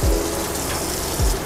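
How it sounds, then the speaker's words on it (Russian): Tap water runs steadily while hands are washed up to the elbows in a pizza restaurant kitchen, a continuous hissing splash with a couple of brief low thumps, no talk. "Так, моем руки по локоть,"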